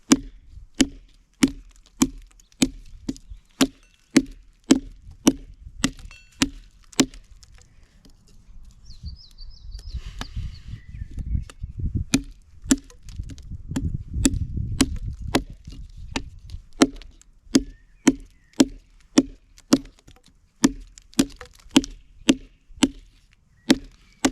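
A light blade chops wood in sharp, evenly spaced strikes, dozens of crisp chops in steady rhythm, with a short pause mid-way filled by louder rustling and scraping.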